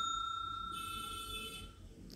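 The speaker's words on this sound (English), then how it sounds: "When we beat to a spoon, it sounds like a bell." A struck steel spoon rings with a clear, bell-like tone that sustains, then slowly fades over about two seconds.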